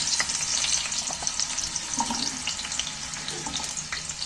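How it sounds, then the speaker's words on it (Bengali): Cut potatoes dropped into hot oil for frying, giving a steady broadband sizzle with a few splashy crackles throughout, close and moderately loud, with no talking. "আলুগুলো তেলের মধ্যে তুলে দিচ্ছি"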